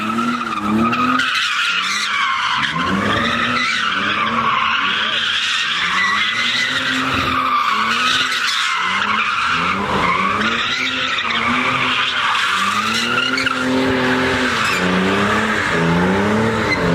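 A BMW does donuts at a car meet, tires skidding and squealing in long continuous wavering tones over a loud revving engine, with faint crowd voices beneath.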